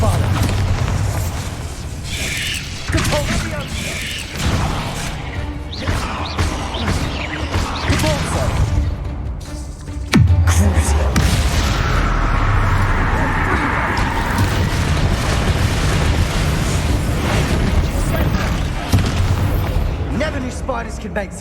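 Bombarda spell explosions in Hogwarts Legacy burst loudly amid a dense, continuous clatter of combat effects and music, with a voice speaking over the chaos.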